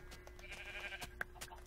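Sheep in Minecraft bleat in a short, wavering, nasal cry around the middle of the clip. Steady game background and a few soft clicks sit underneath it.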